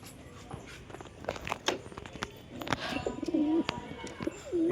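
Domestic pigeons, a pair of Matraj-type birds, coo softly at close range, with a low rolling coo standing out late in the clip among scattered clicks and rustles of the loft.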